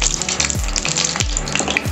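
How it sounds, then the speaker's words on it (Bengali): Whole garam masala spices fry in hot oil while being stirred, a loud, steady close sizzle broken by rhythmic scraping sweeps of the spatula roughly every half second, no voices. "সামান্য একটু গরম মশলাগুলোকে বা ফোড়নগুলোকে একটু নাড়াচাড়া করে নিয়ে"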